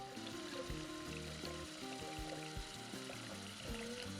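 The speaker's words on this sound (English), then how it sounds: "Now I'm just filling it with cold tap water." Cold well water runs from a kitchen tap into a 12-cup coffee percolator, a quiet, continuous pouring and splashing that rises slightly in pitch as the pot fills.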